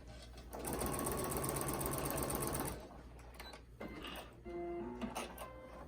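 A sewing machine stitches a quilt in a steady rapid whir for about two seconds, then stops, leaving light mechanical clicks and shuffling of fabric close by.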